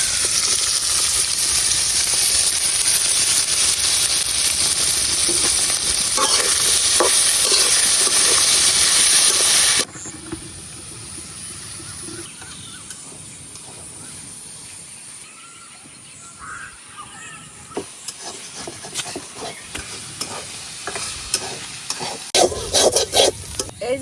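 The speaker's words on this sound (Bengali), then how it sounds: "করলাটি দিয়ে দেম তেলের মধ্যে।" Bitter gourd pieces frying in hot oil in a home kitchen, a loud steady sizzle for the first ten seconds, then a quieter hiss with scattered stirring clicks and crackles toward the end.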